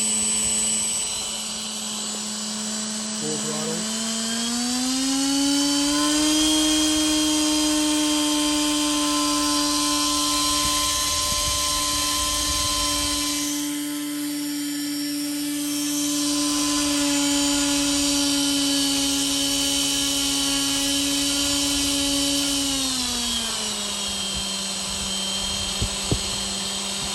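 A small 1806 1800kv brushless motor runs at full throttle on a thrust test, giving a loud, steady high-pitched whine that holds with slight pitch shifts before winding down near the end.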